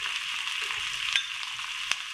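Marinated chicken fries in a pan for a chicken vegetable spaghetti, giving a steady, close hiss of sizzling oil with a couple of faint clicks and no speech.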